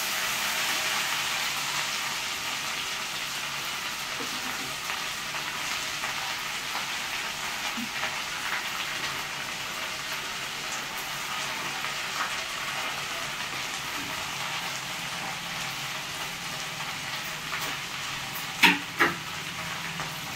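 Mint leaves with their stems fry in hot oil with a continuous close sizzle and crackle that holds steady throughout, ending with a couple of sharp knocks near the close.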